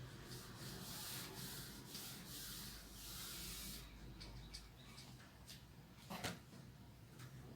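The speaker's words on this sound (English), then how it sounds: "I am rubbing out this, we don't need this now." Chalk or marker writing being rubbed off a board during an online class on algorithms and flowcharts, heard as a steady, fairly quiet scrubbing that runs continuously with a few sharper strokes near the end.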